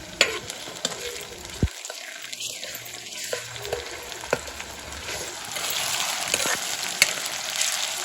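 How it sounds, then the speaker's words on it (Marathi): Chopped onion and tomato fry in hot oil for a mixed vegetable dish, making a continuous close sizzle broken by occasional scraping stir strokes and sharp pops. "तेल झालंय गरम कांदा टाकलाय नेहमी टोमॅटो टोमॅटो"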